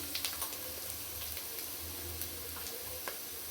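An onion-spice mixture for palak paneer frying in a pan gives a faint, steady sizzle, broken by occasional small ticks and pops.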